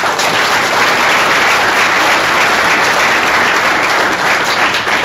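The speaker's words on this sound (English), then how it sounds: "Let's give Lex a big round of applause." Loud, sustained applause from an audience at a tech meetup, dense steady clapping filling the room without a break.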